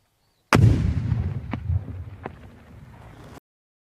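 A sharp, loud live explosive blast rings out at a Ukrainian military training camp, followed by two more distant cracks and a rumbling echo that fades into silence.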